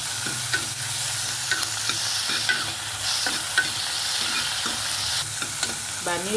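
Green chilies, tomato and a paneer dosa filling sizzle steadily in a pan, loud and close, while a spoon scrapes and stirs in irregular taps throughout, with no one speaking.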